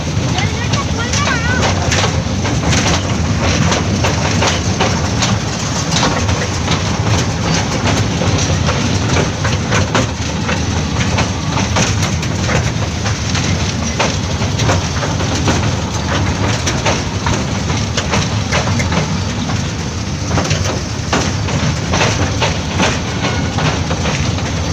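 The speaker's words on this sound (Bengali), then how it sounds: "আমরা একটা রেল গেট ক্রস করছি, এই জন্য হর্ন দিচ্ছে" A train at the Howrah rail museum in Kolkata rumbles and clatters continuously as it crosses a rail gate, loud and close, with people talking over it.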